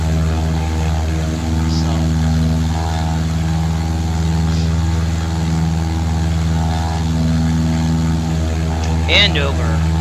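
A light aircraft's propeller engine drones steadily in flight on a retracing of the 1911 Vin Fiz transcontinental route near Wellsville, New York, a loud continuous hum under a voice talking over it.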